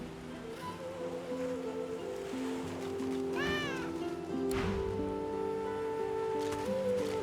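A single drawn-out cat meow in Divinity: Original Sin II, clear and close over a steady bed of ambient game music and wave-like background.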